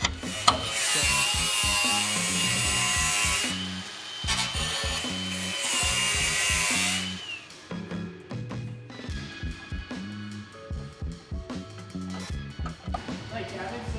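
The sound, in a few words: cutting out sheet steel panel on a Toyota Supra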